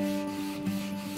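Hand sanding on a knife blade during bladesmithing gives a steady close rubbing rasp with soft periodic strokes over a constant shop hum, no voices.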